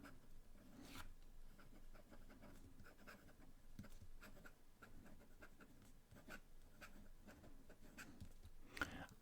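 Jinhao 599 fountain pen with a fine metal nib writing on paper: faint, close scratching and brief strokes in an irregular rhythm against a low steady background hiss.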